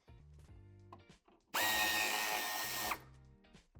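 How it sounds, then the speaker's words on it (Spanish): A power driver whirs steadily for about a second and a half, loosening tail light screws on a BMW X6 (G06), close and loud between quieter workshop handling sounds. "Vamos a aflojar estos dos tornillos del piloto."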